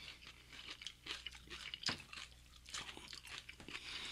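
Crunchy, wet chewing of a sweet jalapeno pepper, close to the mic, with irregular bites and crackling mouth sounds over about four seconds and no talking.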